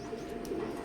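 Imported Saki line teddy breeder pigeons coo in a low, muffled rumble, close and steady, swelling slightly at the end.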